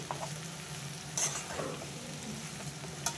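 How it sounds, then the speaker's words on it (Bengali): Potatoes, soybean chunks and spices fry together in a pan, giving a soft, steady sizzle broken by a few stirring scrapes, fairly quiet and close, with no talking. "এবার একসাথে মশলার সাথে আলুর সাথে সয়াবিনটা ভালো করে ভেজে নিচ্ছি"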